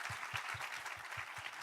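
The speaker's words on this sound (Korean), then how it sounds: "크게 박수하세요" Church congregation applauding together after a member is asked to stand, a broad steady wash of clapping with regular low thumps underneath, continuous for the whole stretch.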